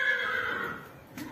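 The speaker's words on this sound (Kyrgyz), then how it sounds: "Бул Телтору караганда бою бийигирээк, анан жоон жылкы бул." A thick-set young stallion whinnies in a loud, drawn-out neigh that fades toward the end, heard up close with no talking.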